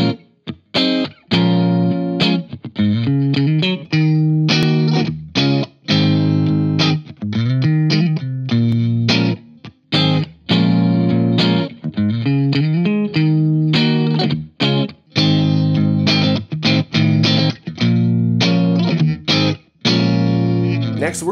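An electric guitar plays a continuous run of notes and chords through a Harley Benton Tube15 tube amplifier, loud and close, with a full, fairly clean tone and brief pauses.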